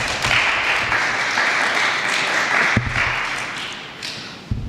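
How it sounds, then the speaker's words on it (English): An audience at a school awards ceremony for essay, oratory, poster and performing arts bursts into loud, dense applause that swells, dips briefly, then carries on, with a couple of sharp knocks near a microphone. "So give yourselves an applaud"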